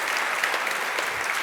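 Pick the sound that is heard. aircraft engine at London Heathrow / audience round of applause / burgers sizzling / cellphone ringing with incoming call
audience round of applause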